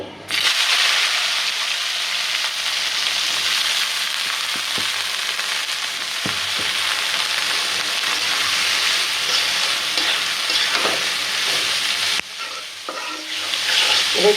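Vegetables frying in hot oil for noodles, a loud continuous sizzle with scraping stirring strokes close by, the hiss dipping briefly near the end before resuming; no talking.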